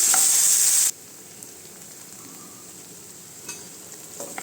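Tomatoes hit a hot pan for moong dal with amaranth, a loud burst of sizzling that drops sharply after the first second into a quiet, low simmering crackle with a few faint clinks.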